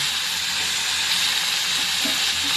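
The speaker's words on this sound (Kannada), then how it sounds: "ಮಸಾಲೆ ಹಾಕಿದಾಗ ನಾನು ಮೆಣಸಿನಕಾಯಿಯನ್ನು ಹಾಕ್ತಾ ಇದ್ದೀನಿ." Onions, masala and chillies fry in a pan with a steady, close hiss and sizzle, constant and dense throughout without pause or talk.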